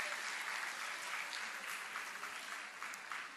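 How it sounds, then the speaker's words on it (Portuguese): A church audience gives steady, dense applause after an offering is announced, continuous and even throughout with no speech over it. "Uma salva de palmas"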